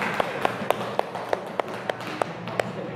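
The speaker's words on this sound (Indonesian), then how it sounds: "Beri tepuk tangan untuk Mas Ibnu." Sparse, evenly spaced handclaps in a small group or classroom after a presentation, roughly three claps per second, crisp and fairly near, with a low murmur of background room noise.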